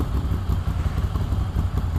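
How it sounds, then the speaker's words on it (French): A Moto Guzzi motorcycle rides through Paris, its deep, muffled engine throbbing in a steady, close, low rumble with no speech over it. "Ça fait vraiment le bruit d'une moto, hein."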